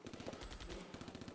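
A German machine gun designed in 1942, firing about 1,200 rounds per minute, lets off a rapid, continuous burst of sharp, evenly spaced shots, loud and close, with no talking.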